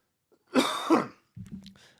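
A single harsh cough with a throat-clearing rasp, close and fairly loud, followed by a shorter, lower second cough after a brief pause.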